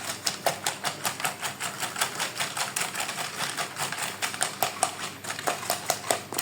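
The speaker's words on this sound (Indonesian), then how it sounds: "Lalu kita kocok sampai semua itu benar-benar tercampur merata." Peanut egg-snack batter being whisked by hand, a fast, steady run of light clicking metal strokes against the bowl, close and continuous with no talking.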